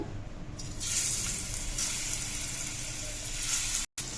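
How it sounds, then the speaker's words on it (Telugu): Prawns frying in hot oil in a pan for masala royyala fry, a continuous close hiss and crackle of sizzling with a few brief surges, cutting out for an instant near the end. "ప్యాన్ పెట్టి ప్యాన్లో ఆయిల్ వేసామండి. మనం రొయ్యలు వేయించుకుందాం."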